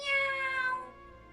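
A single clear cat meow, bright and drawn out, rises and fades within about a second, close and alone without any talk.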